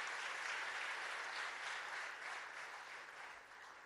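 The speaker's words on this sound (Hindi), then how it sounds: "तालियों से स्वागत करेंगे" A crowd applauds steadily at a ceremony honouring selected UPSC students, a dense wash of clapping that slowly tapers off toward the end.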